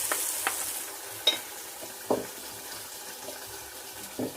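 Dry lentils being stirred with a spiced tempering in a pan, a few scraping stirs and light clatters over a low steady sizzle, close by with no talking.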